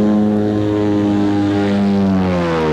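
A Pterodactyl ultralight aircraft taxis at high speed, its propeller engine droning loud and close with a steady, slightly shifting pitch throughout.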